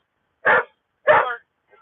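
A dog who jumps with every bark lets out two loud, close barks a little over half a second apart, then a faint trailing sound.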